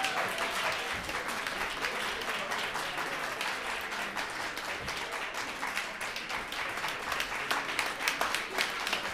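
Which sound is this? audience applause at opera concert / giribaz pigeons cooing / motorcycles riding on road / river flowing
audience applause at opera concert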